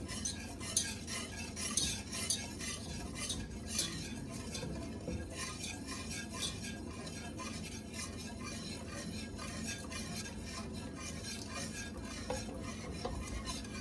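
A whisk beats cheddar-beer sauce in a pot in a quick, continuous scraping rhythm with light metallic clinks, close and steady, with no talking.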